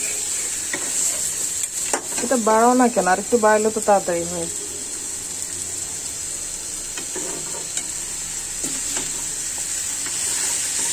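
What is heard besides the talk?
beef meat frying in a pan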